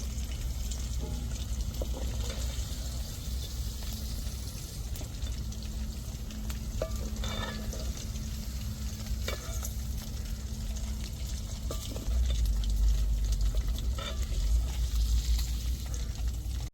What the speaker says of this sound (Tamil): இதே மாதிரி எல்லா இறாலையும் நம்ம ஊற உணர விட்ட ராலை ஃபுல்லாக பொறிச்சு எடுத்துக்கிடுவோம்